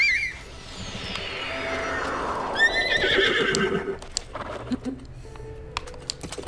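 A horse neighs in The Legend of Zelda: Breath of the Wild, a long descending whinny followed by snorts and light hoof clops, with keyboard-like clicking tapping beneath.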